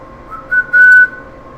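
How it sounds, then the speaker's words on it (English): A person whistles a short two-part tune, a quick brief note followed by a longer steady tone, close and clear over faint room noise. "Sorry, I just whistled out of nowhere."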